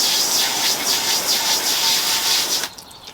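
A motorcycle being rinsed off during a wash, water spraying in a steady, loud hiss that cuts off abruptly near the end.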